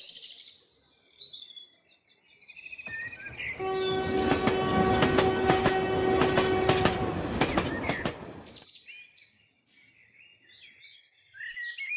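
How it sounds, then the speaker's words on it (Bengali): A train rumbles past with a long, loud horn blast that rings for several seconds, while birds chirp before and after the noisy passing. "ওই যে ট্রেনের বাঁশি বেজে গেছে।"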